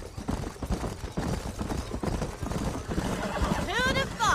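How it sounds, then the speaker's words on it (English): Horses in the Red Dead Redemption western video game give uneven hoof clip-clops under ongoing talk, ending with a wavering whinny. "These are fine horses."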